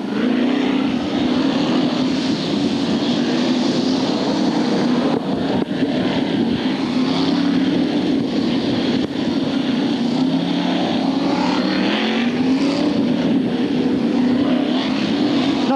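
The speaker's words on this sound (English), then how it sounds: "Mark Gilbank pulls his car off with a skewer front wheel there." Formula 1 stock cars race at Hartlepool in a 1995 semi-final, a continuous loud engine roar with wind noise, rising and falling as cars pass.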